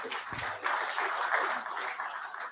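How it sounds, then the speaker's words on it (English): An audience at a metals industry conference session breaks into steady applause, a dense wash of clapping that carries on through the whole stretch at a fairly even level. "Let's give him a round of applause and welcome to the stage."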